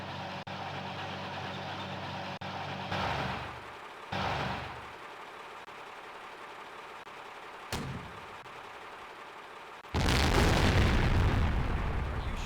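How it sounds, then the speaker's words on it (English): Howitzer suppressive fire explodes in the World War II strategy game Blitzkrieg 2: a few separate booming blasts, the last and loudest rumbling on for a couple of seconds, with quieter background battle noise between them and no talk. "I'm gonna get my howitzer to do suppressive fire"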